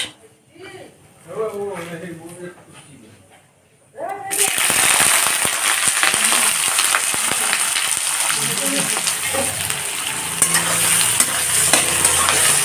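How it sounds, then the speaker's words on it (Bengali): A voice talks briefly before onions drop into hot oil tempered with kasuri methi on a low flame, setting off a loud, dense sizzle with scattered crackles that continues steadily to the end. "গ্যাসটাকে লো ফ্লেমে রেখেই পেঁয়াজটাকে লাল করে ভেজে নেব"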